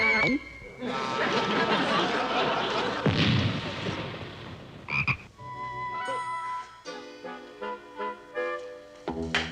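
A frog croaks several times in a spooky comedy-show scene, set against music, sound effects and a loud bang-like burst, with a voice heard around it.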